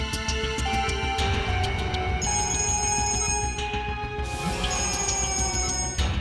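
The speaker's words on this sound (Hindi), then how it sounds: "सर, डीसीपी चित्रोले साहब का बार बार फोन आ रहा है।" A telephone rings insistently, its bright, repeating electronic tones sustained and fairly loud over a busy background, with no one speaking.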